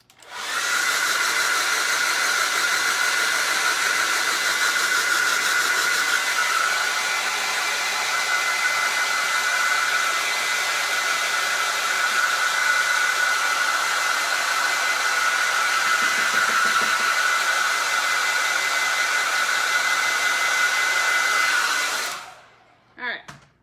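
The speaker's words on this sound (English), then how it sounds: "I'm gonna blow dry this one more time" A hair dryer blows loudly and steadily at close range for about twenty seconds, then cuts off abruptly.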